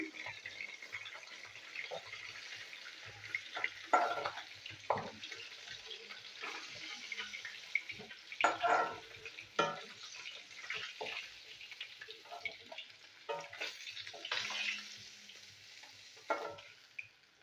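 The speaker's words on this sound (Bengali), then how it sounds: "মাছগুলো আমি ভেজে নেবো, মাছগুলো আমি ভেজে নিই" Fish frying in oil in a pan gives a soft, low-level sizzle, punctuated by irregular bursts of spattering and stirring, with some watery splashing mixed in.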